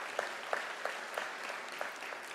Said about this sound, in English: Can we give an applause to the supervisor